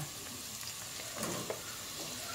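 Carrots frying with garlic in a pan for Batangas-style lomi, a soft steady sizzle with faint stirring scrapes, no voices.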